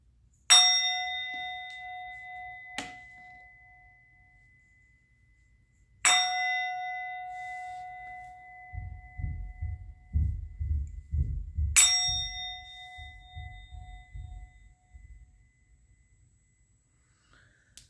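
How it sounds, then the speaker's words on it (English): A bell is struck three times at even intervals of about six seconds, each clear metallic ring decaying slowly, with low rumbling thumps between the later strikes. "I'm going to ring the bell."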